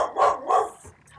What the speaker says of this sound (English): Oh, those dogs.